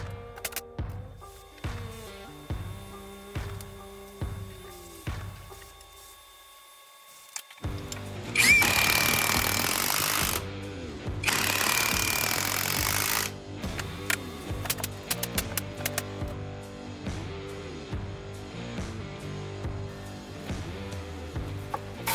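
An impact driver runs 6-inch lag screws into a wooden stud pack, with repeated short whirring and ratcheting bursts, a near-silent pause, then two long loud stretches of driving, followed by more stop-start tool noise and mechanical clicks.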